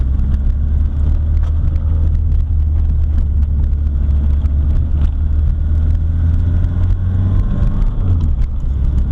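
A 1979 VW Rabbit with a 1.6L diesel engine driving, a steady loud low drone and road noise, with the engine note rising and shifting near the end as it goes into second gear.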